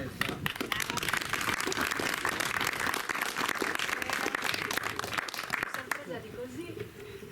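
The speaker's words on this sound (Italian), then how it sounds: "Applauso Teresa." An audience claps for a poet at a poetry and song evening in Ossi, with dense, steady applause for about six seconds before it thins out. A voice carries over the clapping.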